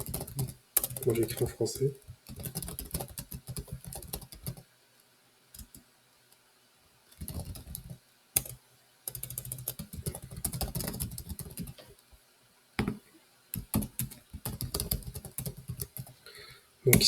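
Computer keyboard typing while code is written for a .NET chatbot, coming in several quick bursts of close, dense key clicks separated by pauses, with someone speaking French between and over some of the typing.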